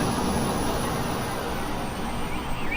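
Airliner engines hum and roar steadily during an approach to runway 01 in Microsoft Flight Simulator 2020, a loud continuous broadband drone filling the cockpit with no talk.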